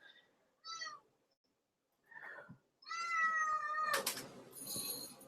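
A hungry cat meows for food several times, short calls at first, then a longer, insistent drawn-out meow, close by in a quiet room.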